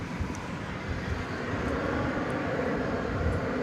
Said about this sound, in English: As we watch Flight 2078 coming in from Sacramento